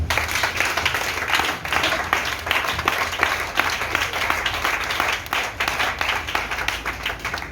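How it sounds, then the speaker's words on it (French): Church congregation applauding, a dense, continuous wash of many hands clapping at close range with steady loudness throughout. "Acclame Jésus"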